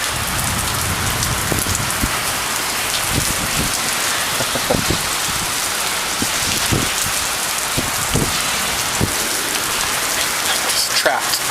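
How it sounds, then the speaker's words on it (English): Steady heavy rain pours down during a storm, a dense continuous hiss of drops hitting surfaces, with scattered louder splats and thumps, fairly loud and close with no talking. "Got stuck in the rain"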